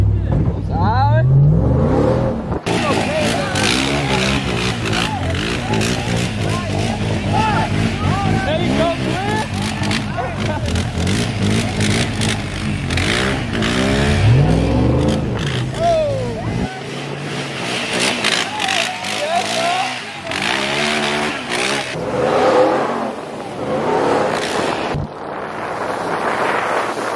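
A Ram TRX pickup truck on a muddy trail ride, with water and puddles, roars and revs repeatedly under heavy wind buffeting, while people talk and shout loudly inside throughout.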